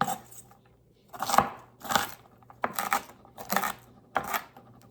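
Onions and celery chopped with a knife on a board at home: about six crisp, evenly spaced chops, close and moderately loud, over a faint background hum.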